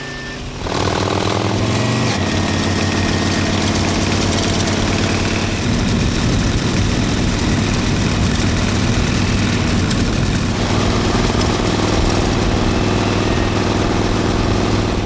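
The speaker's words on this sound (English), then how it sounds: "fired up the second Hubless bike and took off for a spin" A loud custom hubless-wheel motorcycle engine idles and runs steadily, its droning hum rising partway through as it revs, continuous and close.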